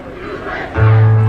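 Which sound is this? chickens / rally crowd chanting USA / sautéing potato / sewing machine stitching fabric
rally crowd chanting USA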